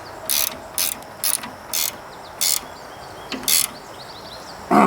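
Ratchet wrench snugging down new tie rod nuts on a 1944 Ford 2N tractor: short bursts of rapid clicking, about eight separate strokes with pauses between them, close up in a quiet shop.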